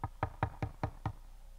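Six sharp, evenly spaced knocks on a hard surface ring out in quick succession during a church sermon, crisp and fairly close, with no talking over them.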